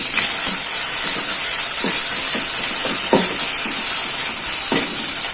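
Ground spice paste sizzles in a hot pan for Manado-style fish woku, a loud, steady hiss of frying with occasional soft stirring scrapes breaking through.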